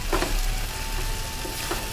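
Steady sizzling of a mixed sprouts curry base sautéing in a hot pan, with a few soft stirring scrapes, close and continuous.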